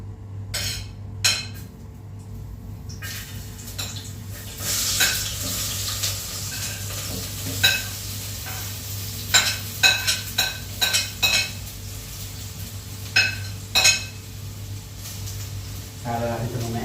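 Ginger sautéing in a pan for Ilocano pinapaitan, a steady sizzle under repeated sharp clinks and scrapes of a utensil stirring against the pan.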